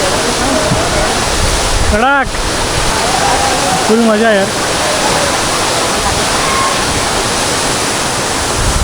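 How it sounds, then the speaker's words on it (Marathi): Zenith waterfall near Khopoli roars loud and close as a dense, unbroken wash of water noise, with excited voices talking briefly over it. "मित्रांनो हा बघा झेनिथचा धबधबा"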